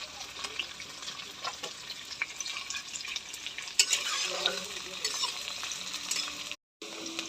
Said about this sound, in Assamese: পিঁয়াজখিনি অলপ সময় ভাজিব লাগিব